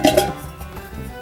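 A metal cup from a 1790s frontier kit is handled, giving a couple of bright clinks near the start followed by a softer metallic rattle, close and fairly quiet.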